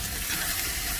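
Okra sizzling and frying in a pan with salt and turmeric, steady dense crackle filling the whole stretch, close and even, no voices.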